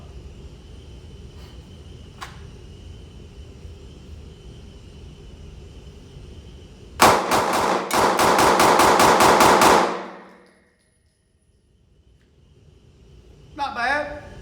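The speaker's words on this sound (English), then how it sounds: "I'm gonna run 12 rounds, about 5 yards. 12 rounds through it, center mass in the A zone as fast as I can run them." A Sig P365 pistol fires a fast string of about a dozen sharp, loud shots at close range on a shooting range, the rapid cracks running together into one dense burst before silence.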